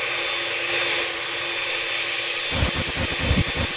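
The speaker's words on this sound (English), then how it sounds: "Speeding up for takeoff." Singapore Airlines airliner engines roaring steadily as the jet speeds down the runway for takeoff, heard loud from inside the cabin, with low rumbling and rattling building toward the end.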